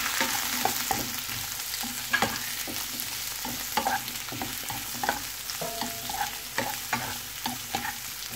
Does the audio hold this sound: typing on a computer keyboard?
no